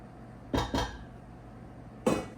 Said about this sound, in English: Silicone spatula to make sure we get it all.